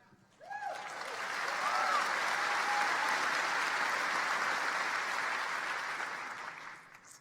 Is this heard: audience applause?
yes